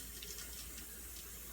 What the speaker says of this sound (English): can you put some water on there? I'll get the kettle going for us